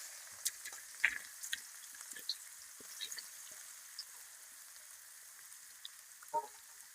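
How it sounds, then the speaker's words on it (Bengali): Onions frying in a pan after fish has been fried in it: a soft, steady sizzle with scattered crisp pops and crackles, fairly quiet and close. "মাছ ভাজার পরে পেঁয়াজ দিয়ে দিলাম"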